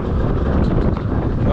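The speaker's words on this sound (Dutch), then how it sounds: "Er staat wel aardig veel wind nu in het park, moet je zeggen." Strong wind roars steadily across the microphone at an amusement park, a loud continuous buffeting rush with no voices.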